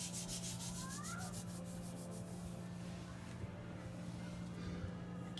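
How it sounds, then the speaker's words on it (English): Baking soda being rubbed by hand into the grooves of flooring adhesive, a steady gritty rubbing and scrubbing that continues evenly throughout over a low constant hum, fairly close and moderately loud. "when you rub the baking soda in,"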